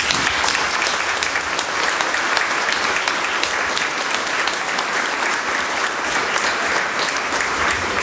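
Sustained, loud audience applause fills a crowded hall at the inauguration of a Renault garage in Tarbes, a dense, steady wash of many hands clapping without a break.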